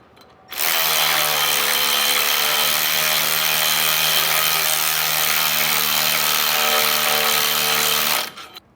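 A power tool runs in one continuous burst of about eight seconds, tightening the hardware of an Air Lift LoadLifter 5000 rear air spring. The whine is loud, close and steady, starting and stopping abruptly, with no talk.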